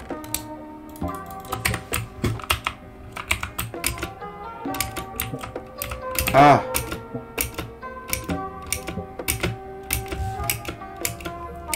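Rapid computer keyboard typing with irregular clacking bursts runs throughout, close and fairly loud, during Minecraft survival play, with a brief vocal sound partway through.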